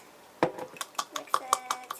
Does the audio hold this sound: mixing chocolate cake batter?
yes